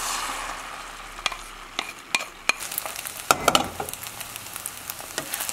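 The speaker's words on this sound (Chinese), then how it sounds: "我们在平底锅里面加入一点点油， 油热以后下入鸡蛋，" Eggs fry in a little hot oil in a flat pan, a soft sizzle broken by sharp spatula taps and scrapes that cluster and grow busier toward the end.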